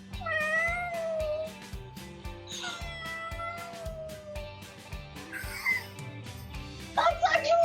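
A person imitates a cat meowing to be let inside out of the rain, giving several high, drawn-out wavering meows over steady background music, with other voices briefly joining near the end.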